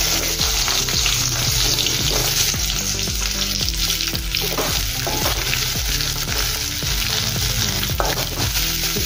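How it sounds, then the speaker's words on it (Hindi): Onions frying in hot oil in a kadhai, a steady dense sizzle with repeated soft stirring scrapes throughout, close and continuous with no talk. "अभी इसमें हम प्याज भुनेंगे पहले।"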